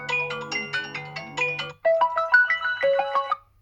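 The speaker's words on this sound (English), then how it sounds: "We have our ringtones here. This is default one." The default ringtone of a Huawei P60 Pro smartphone plays a bright, loud electronic melody of quick repeated notes, with a brief gap before a second phrase of rising tones.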